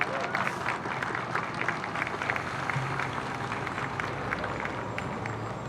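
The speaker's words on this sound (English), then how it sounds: "Let's give them a round of applause." An outdoor crowd at an electric bus launch applauds three bus operators, continuous loud clapping with a low hum and some voices underneath.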